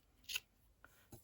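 Scissors snip through folded paper strips in a quiet room, giving two or three short, crisp cuts close by with a soft rustle of paper between them.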